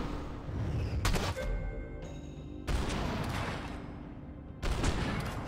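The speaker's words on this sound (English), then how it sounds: "shooting with the shotgun here wasn't the best option" Shotgun fire in the video game Max Payne 3: three loud, heavy blasts land about a second and a half apart, each with a sharp attack and a booming tail, over a dense background of game noise.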